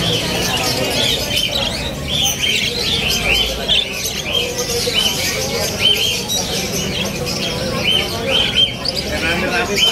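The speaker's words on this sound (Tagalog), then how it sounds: "Ito yung mga ibon ni Prince Joel." Pet birds in a Philippine aviary chirp and tweet continuously, with some cooing, dense and close throughout, while people talk in the background.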